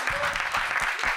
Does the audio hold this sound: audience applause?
yes